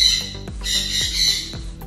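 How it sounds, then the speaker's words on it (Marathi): Birds at a resort give loud, harsh squawks close by, repeating in quick bursts about every half second with thin chirps over a low background hum. "इथे पक्षी आहेत"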